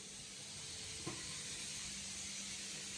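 Two pressure cookers on a home stove give a steady, low hiss of escaping steam that runs through the whole stretch, with one brief click near the middle.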